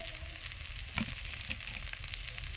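Whole cumin seeds sizzle in hot mustard oil, a faint, even crackle with a single soft tap of a utensil against the pan.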